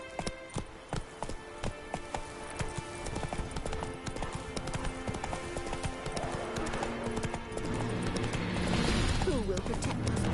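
Roach the horse's hooves clip-clop in a steady rhythm in The Witcher 3, close and distinct at first, then blending into a busier game soundscape with voices talking.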